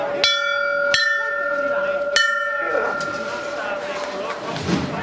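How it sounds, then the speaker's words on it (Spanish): Church bells ring out during a Palm Sunday Holy Week procession in Andalusia, three loud ringing strikes about a second apart, their tones lingering and then fading under crowd noise. "ahora ya vamos a escuchar esos toques de campana de nuevo."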